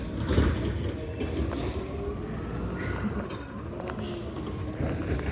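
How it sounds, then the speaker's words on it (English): An EDI McNeillus ZR automated side-loader garbage truck hums steadily at a residential curb, a low continuous engine drone with faint mechanical clanks over it. "I like that humming sound of that garbage truck."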